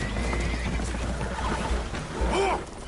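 Spooked horses whinny amid a loud wash of water and creaking as a vessel takes on water in Red Dead Redemption, with a dense, churning background and a shrill neigh rising near the end.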